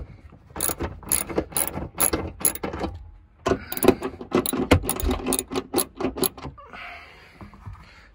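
A ratchet is worked on the bolts of a Suzuki Jimny car seat, giving close, loud bursts of clicking pawl strokes in quick repeated runs with brief pauses, then fading to a faint rattle at the end.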